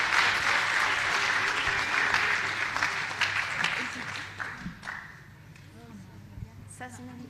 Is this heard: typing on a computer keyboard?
no